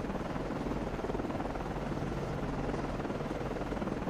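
A naval helicopter launches in the submarine game Cold Waters, its steady rotor thrum and engine drone continuous and fairly loud, with no talk over it.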